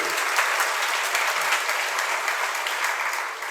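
An audience clapping at a spiritual discourse, dense sustained applause from many hands, loud and steady throughout with no break.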